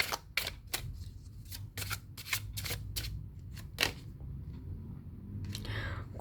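Tarot cards shuffled and drawn in a series of sharp, crisp flicks and snaps. The card sounds come close-up and fairly loud, with a low background hum running underneath.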